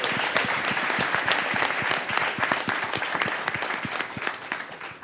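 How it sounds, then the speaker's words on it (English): An indoor audience at a launch event gives a loud, steady round of applause for XO House, dense clapping close by that fills the whole stretch without any talking. "a round of applause for XO House"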